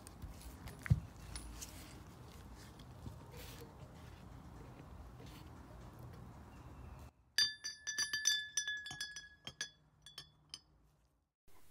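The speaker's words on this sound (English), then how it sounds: "I'm going to drop this back in for another coating" Steel hardware is dropped back into a container of black oxide solution, giving a burst of bright metallic clinks and jingling that follows a quieter stretch of low background noise, then tapers off.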